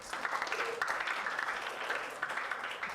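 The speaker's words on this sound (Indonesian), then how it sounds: "tepuk tangan dulu untuk presentasi dari kelompok 2." A classroom group claps for a student group's presentation. The applause is steady and moderately loud throughout the short stretch, with no voices over it.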